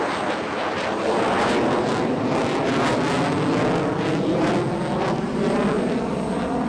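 A Raptor jet fighter flies a high-alpha turning descent at an airshow, its engines a loud, continuous roaring rumble with slight pulsing as it maneuvers, heard from the crowd without talking.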